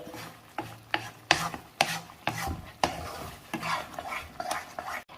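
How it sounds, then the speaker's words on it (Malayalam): A spoon scrapes and stirs thick homemade lehyam in a pan over low heat, about a dozen rhythmic scraping strokes with a soft sticky rasp and faint sizzle, close and clear with no talking. "ഒരു 2-3 മിനിറ്റും കൂടെ നമുക്കിതൊന്ന് ഇളക്കി കൊടുക്കാം. ഇനി ഇത് ചെറുതീയിൽ വെച്ച് തന്നെ ഇളക്കിയാൽ മതി."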